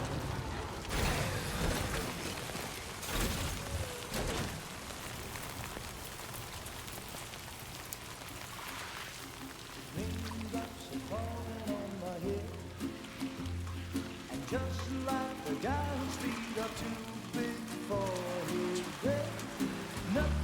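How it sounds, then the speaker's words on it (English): Rain falls steadily in Death Stranding 2, a constant wash of drops on surfaces that runs the whole time with music, while game sounds and a voice come and go over it. "Those raindrops are falling on my head, they keep falling."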